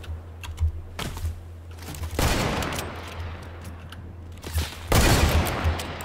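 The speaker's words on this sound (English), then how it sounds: "Someone else is shooting at us." Bursts of rapid gunfire in Fortnite, with sharp cracking volleys coming in several clusters separated by quieter gaps, loud and close, with no talk.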